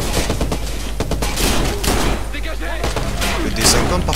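Gunfire in the Watch Dogs video game comes as a loud fusillade of sharp repeated shots in quick bursts with thuds and game noise around them, continuing through the whole stretch.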